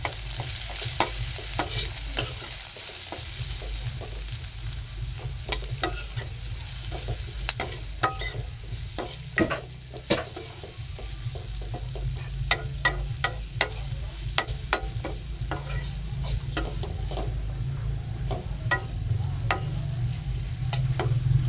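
Turmeric sautéing in hot oil over a low flame, a steady close sizzle with repeated scraping and stirring strokes of a spoon against the pan throughout.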